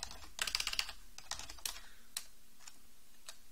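Quick runs of keystrokes on a computer keyboard while entering adb and Linux terminal commands, clustered bursts of clicks followed by sparser single taps, close and fairly quiet with no talking.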